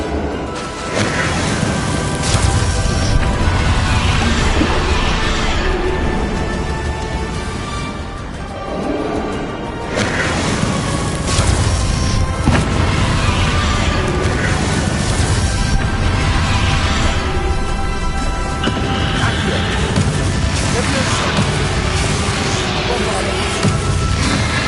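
Bombarda explosive spell blast from Hogwarts Legacy, loud, dense booming crashes that fill the whole stretch amid heavy game music and combat noise, with a voice speaking over it.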